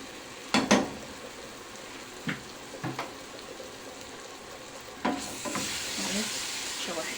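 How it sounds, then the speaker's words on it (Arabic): Garlic sautéing in a pan, a soft background sizzle broken by a few sharp stirring clinks and scrapes, with the hiss growing slightly louder toward the end. "شوح الثومه"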